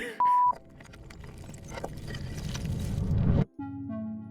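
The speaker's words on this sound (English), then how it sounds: "Anything you say from this point forward, I'm just gonna bleep over." A short, steady censor bleep sounds once near the start, lasting about a third of a second, followed by a rising low rumble that stops abruptly.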